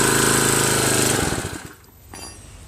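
A Tecumseh 5HP Enduro horizontal-shaft engine on a 2000 PSI pressure washer runs loud and close with a steady harsh drone, then winds down and dies away into quiet.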